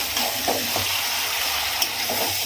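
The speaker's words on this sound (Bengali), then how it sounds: "মাংসটা আমি এখন এইরকমভাবে কষতে থাকবো" Young goat mutton being stir-fried in spices in a pan for a mutton curry, with a steady close sizzle broken by scraping stirring strokes.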